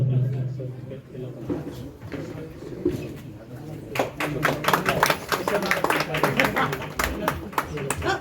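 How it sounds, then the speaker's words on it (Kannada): An audience applauds to honour guest women at a local ceremony, with quieter talk and scattered sounds first and then dense, steady clapping rising over the last four seconds. "ಒಂದು ಚಪ್ಪಾಳೆಯೊಂದಿಗೆ ನಮ್ಮ ಈ ಎಲ್ಲ ನಮ್ಮ ಅತಿಥಿ ಮಹಿಳೆಯರಿಗೆ ನಾವು ಸತ್ಕಾರ ಮಾಡೋಣ"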